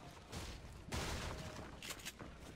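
A pump shotgun fired in Fortnite. A sharp gunshot burst rings out amid other faint gunfire and building noise, quiet overall.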